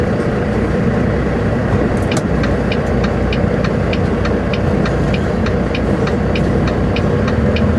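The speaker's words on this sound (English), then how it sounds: "So I gotta drive with the windows down until air starts coming in through the vents" Pickup truck driving with its windows down, steady loud engine and road roar with wind buffeting through the open cab, plus a regular ticking rhythm throughout.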